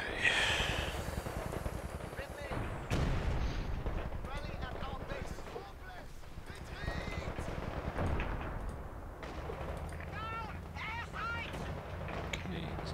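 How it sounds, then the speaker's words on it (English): Airstrike explosions in the Wikinger war game come as deep, rumbling booms through the clip, with heavy blasts near 3 and 8 seconds amid constant battle noise and occasional distant chirps, while someone talks over it. "airstrike coming in"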